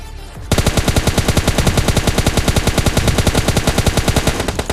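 Rapid automatic gunfire in PUBG Lite aimed at a BRDM armored vehicle, a loud sustained burst of tightly spaced shots starting after a brief quiet moment and continuing to the end.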